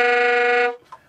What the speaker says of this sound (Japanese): オクターブ上のソーとソーシャープがギャヒギャヒ外れると。